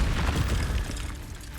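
An Incendio fire spell bursts in a Harry Potter video game, a short, loud whooshing blast with a deep rumbling low end that fades over about a second.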